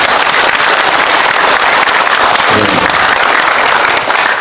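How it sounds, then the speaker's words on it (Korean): Loud, dense audience applause during a lecture, a full crowd clapping steadily and continuously throughout with no clear speech over it. "박수 한번 주십시오."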